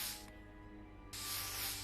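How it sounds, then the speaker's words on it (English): Airbrush spraying paint on a miniature in the Demeo VR game on Quest 2: a steady breathy hiss that eases to a softer spray midway, then surges back loud and full for the last second, close and alone. "I'm really impressed with the airbrush."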